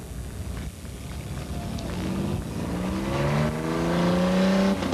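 A six-cylinder Buick race car engine revs up on a weekly oval track program, a steady mechanical roar climbing in pitch as the car accelerates, with rising engine tones building toward the end.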